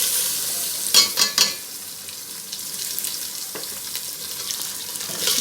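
Chicken liver (kaleji) sizzles in hot oil with golden fried onions, producing a steady frying hiss with a few louder stirring clatters near the start and end.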